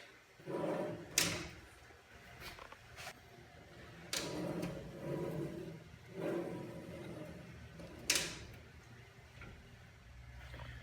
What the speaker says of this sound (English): all the drawers are steel, handmade, and they're on soft close drawer slides.